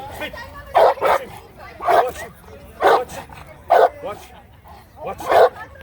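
A big American Bully barks in about five loud, rhythmic bursts while gearing up to bite a training sleeve at a kennel show, with low background noise between barks.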